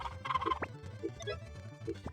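Hens cluck at a chicken festival in Harvest Moon: Back to Nature. Short, faint, bird-like calls repeat at an uneven rhythm over a quiet background.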